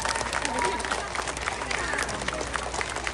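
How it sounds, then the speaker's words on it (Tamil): Audience applause for parents at a dance event, a steady wash of clapping at moderate loudness with voices mixed in throughout. "அந்த பெற்றோர்களுக்கு சிறந்த கைதட்டு கொடுக்கணும்"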